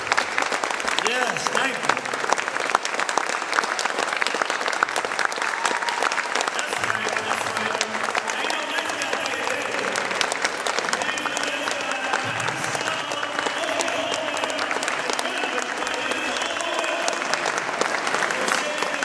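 A room full of people applauding at a Nat Turner Rising gathering, loud sustained clapping and crowd noise throughout, with a voice speaking briefly over it.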